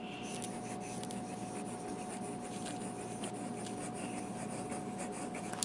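Jinhao X750 fountain pen nib writing on paper: a faint, continuous scratchy rub of the nib moving in close, with a low steady hum in the background and no talk.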